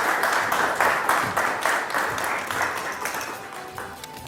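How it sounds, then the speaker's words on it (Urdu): Studio audience applauds on a Ramzan special television transmission, a steady bed of clapping with a few louder bursts that slowly tapers toward the end. "تالیاں ہونی چاہیے"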